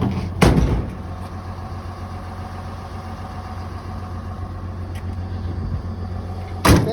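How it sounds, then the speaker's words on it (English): A 2007 Dodge Ram 2500 pickup at a used car lot in Arlington, Texas idles with a steady low engine rumble, with two sharp thumps like a door closing near the start and end. "Truck is running so you can hear it."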